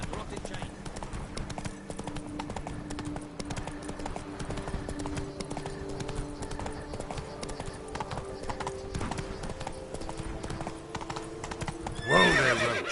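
Roach, a horse in The Witcher 3, gallops with rapid rhythmic hoofbeats over game ambience and music, ending in a loud whinny; a voice speaks briefly.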